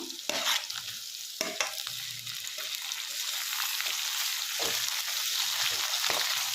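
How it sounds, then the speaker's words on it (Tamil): Turkey berries, garlic, shallots and tomato sautéing in a pan with rock salt, a steady sizzle broken by several sharp spatula scrapes and stirs, up close. "இப்போ இதில் நல்லா வணக்கி விட்டுக்கலாம்"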